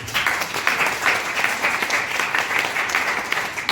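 Steady, dense applause from a crowd, many hands clapping together with no pauses, loud and sustained throughout.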